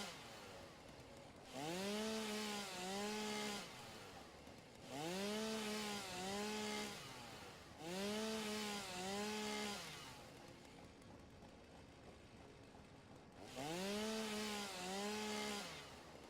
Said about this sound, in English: chainsaw for some reeds, probably overkill, but here we go